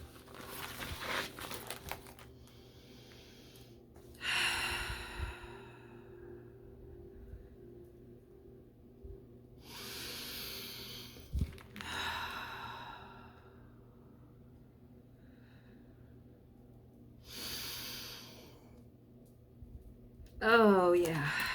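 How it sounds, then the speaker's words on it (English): Deep, slow breaths during a guided breathing exercise, with three long airy inhales and exhales spaced several seconds apart over quiet background hum. A brief voice comes in at the end. "Let's do a few inhales, exhales, hold."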